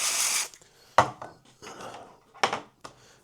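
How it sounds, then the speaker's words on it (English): A grimy brush scrubs gunk off a Class 24 locomotive gearbox: a long rasping stroke followed by several shorter scraping rubs, close and fairly loud, with quiet pauses between. "Going over with a manky brush just to get rid of all the gunk."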